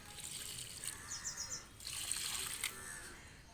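Water trickles and splashes onto soil and leaves of a rooftop garden in a steady, soft stream, with faint outdoor background noise.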